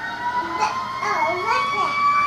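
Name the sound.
ambulance siren sound from a toy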